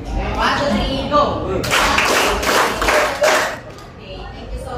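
A group of students claps together in a classroom presentation setting, a broad burst of applause rising after a count-in and swelling in two waves over background chatter before fading.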